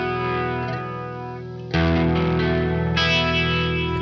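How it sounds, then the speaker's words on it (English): Electric guitar through a Big Monk Pompeii fuzz pedal with modulation, a sustained chord that fades, then a loud, wobbling fuzzed chord struck and ringing on without talk. "Fuzz cleans up and you can still hear the modulation."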